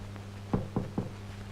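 Three sharp knocks on a door, evenly spaced and fairly close, land over a steady low electrical hum with nothing else around them.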